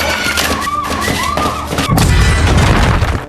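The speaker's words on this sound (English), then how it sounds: "The explosion alerted Jongman." A grenade blast lands as a sudden deep boom partway through a tense action scene, followed by a loud, sustained rumble that swamps the earlier sounds.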